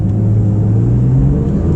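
A Porsche 992 GT3 accelerates in normal mode while the automatic gearbox shifts on its own, its engine note climbing in a loud, smooth, rising whir close to the car.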